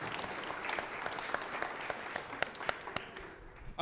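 An audience at a live business mastermind event applauds in a steady wash of clapping that tapers slightly toward the end, with a few sharper individual claps standing out.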